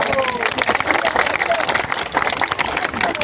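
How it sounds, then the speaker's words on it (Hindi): Loud, dense applause from a crowd at a political speech gathering, continuous clapping with a busy rhythm and some voices mixed in throughout. "जोरदार तालियां"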